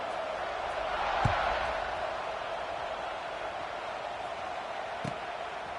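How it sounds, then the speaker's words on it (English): A large football stadium crowd sends up a dense, steady roar after a score, filling the space evenly, with a couple of faint thuds standing out briefly. "this crowd is buzzing after that last score"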